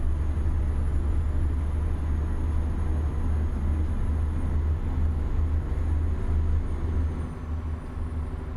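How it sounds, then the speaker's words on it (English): A truck engine in Euro Truck Simulator 2 drones steadily and loud from inside the cab, a deep constant rumble with a thin high whine above it, easing slightly near the end. "But the engine is what I want to hear the most."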